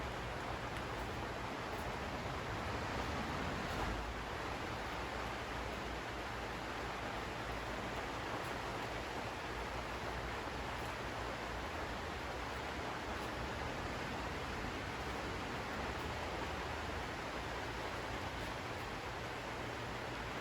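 Steady heavy rain pours down continuously during a garden walk-through among potted cosmos and flower market packs, a dense, even hiss with no talking.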